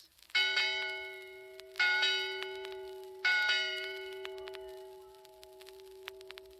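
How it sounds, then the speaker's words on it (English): A ship's bell rings three times in slow, resonant strikes, each clang leaving a long shimmering decay, followed by faint scattered ticks. "And ships at sea have bells that sound like this."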